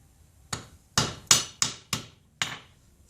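Hammer blows forging a soft silver ring, six sharp metallic strikes at an uneven pace, each with a bright ringing attack and a quick decay, heard close and alone.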